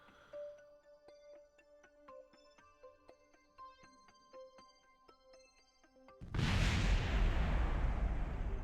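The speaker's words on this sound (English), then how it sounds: "I still love it how there's explosions in space." Explosion in space in the Kerbal Space Program video game: soft tonal game beeps and blips, then a sudden loud, broad roaring blast that sustains to the end.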